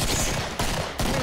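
Gunfire in the video game Killing Floor, a dense, loud burst of shots that drops out briefly twice and resumes, filling the short moment with no talk.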